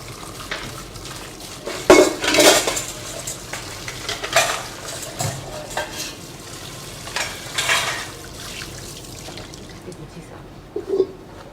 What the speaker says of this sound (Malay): Dayang nak putar whipping cream pula